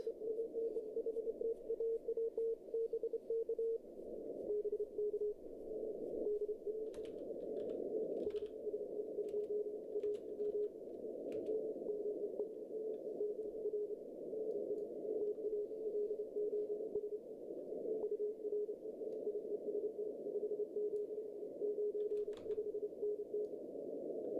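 Two Morse code signals sit on top of each other on the same frequency, a steady sidetone keying fast and continuously under a constant hiss of radio noise, with no voices.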